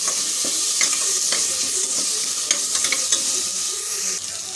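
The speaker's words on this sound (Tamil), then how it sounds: "தக்காளி ஒரு ஒரு நிமிஷம் வதங்கட்டும்" Chopped tomato sautéing in a hot pan for a cucumber dal, giving a steady loud sizzle with scattered crackles and light stirring scrapes throughout, no talking.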